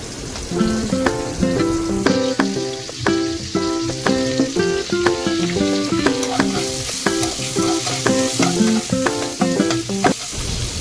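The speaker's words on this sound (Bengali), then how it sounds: "ফুলকপি আলুগুলোকে ভালো করে ভেজে নেব।" Cauliflower and potato pieces frying in hot oil for a katla fish curry, a loud, dense, continuous crackling sizzle with rapid popping throughout, close up and without talk.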